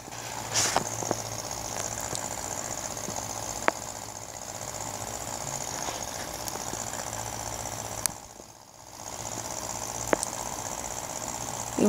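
Aircraft engine in a flight simulator game at lowered throttle, a steady droning hum throughout with brief clicks and a short dip in level.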